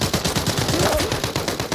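Rapid bursts of gunfire in the video game Arena Breakout crackle in a steady automatic stream, loud and close, with a faint voice briefly underneath.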